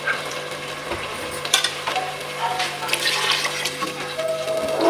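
Water runs and splashes steadily into a pot of soaked rice for several seconds, a continuous wet rushing with faint kitchen clatter, growing slightly louder toward the end.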